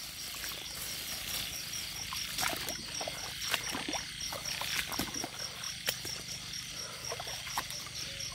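Frogs and insects call at night during rain in Thailand, a dense chorus of steady chirps and croaks with sharp clicks and patter, distant and fairly faint.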